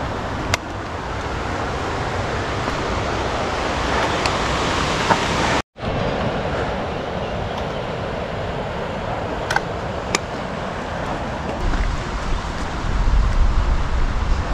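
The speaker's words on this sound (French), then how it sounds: "Cascade là, torrent." A mountain waterfall and rushing torrent on a high trail near Monte Viso roars as a steady, loud broadband wash throughout, with one brief dropout partway through and no talk.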